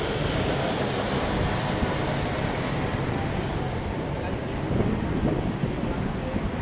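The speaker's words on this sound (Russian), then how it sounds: "Вот здесь очень хороший ветер дует с этого, с океана." Ocean wind sweeps across a Tenerife seafront, a dense, unbroken rumble of gusts against the microphone that stays loud from start to finish, with faint background activity beneath.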